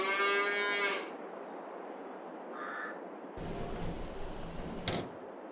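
Cattle mooing in the Farming Simulator 22 video game, with a loud, long moo at the start, then quieter farm ambience with a crow cawing and brief clunks, no speech.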